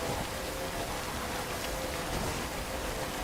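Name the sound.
rain, from video game Death Stranding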